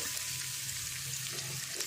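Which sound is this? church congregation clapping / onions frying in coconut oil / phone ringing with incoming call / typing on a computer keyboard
onions frying in coconut oil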